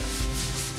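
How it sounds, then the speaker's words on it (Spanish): A damp cloth rubbed briskly over a wooden canvas frame after filler has been sanded, a close, dense scrubbing rasp that runs continuously for under a second with no voices. "Volvemos a limpiar nuestro bastidor utilizando este trapo húmedo."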